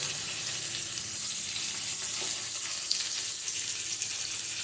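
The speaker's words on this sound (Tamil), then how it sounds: "அதே எண்ணெயிலேயே கட் பண்ணி வச்சுட்டுருக்கிற 3 தக்காளியை போட்டுடலாங்க" Tomatoes with garlic frying in oil in a pan, giving a steady, loud, continuous sizzle with faint stirring ticks, no voices over it.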